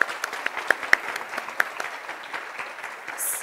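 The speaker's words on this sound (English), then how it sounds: "give him a round of applause" A short burst of scattered clapping from a small group, sharp individual claps that thin out after a few seconds.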